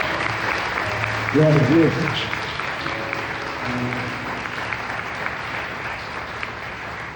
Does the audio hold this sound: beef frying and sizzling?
no